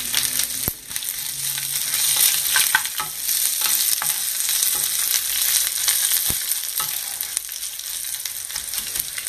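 Chutney mixture frying and being stirred in a pan, a loud continuous sizzle with repeated scraping and knocking spoon strokes close by.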